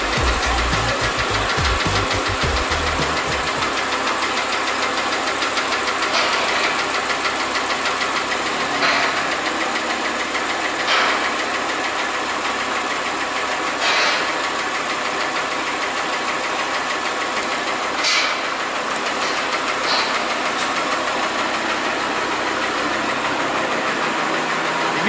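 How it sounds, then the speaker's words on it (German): A car drives along a snowy country road, its engine droning and knocking steadily at close range for the whole stretch, with a few faint clicks and thumps on top. "Gechillt Autofahren im Schnee macht einfach Spaß."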